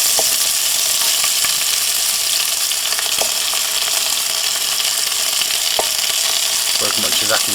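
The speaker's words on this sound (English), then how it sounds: "drop a piece of onion into the oil, and straight away that's sizzling" Onion pieces sizzling in hot oil in a pan on a small Lidl Landmann Kamado BBQ, a steady dense frying hiss throughout with a few faint clicks and scrapes.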